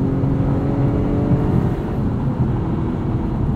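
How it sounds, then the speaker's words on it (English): From inside a 2021 Acura TLX A-Spec SH-AWD under heavy throttle, a steady engine drone and road rumble hold at a fairly even level, with no speech over it. "when you do heavy throttle application of this car, it's smooth"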